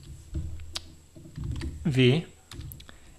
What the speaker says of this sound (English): by typing Shift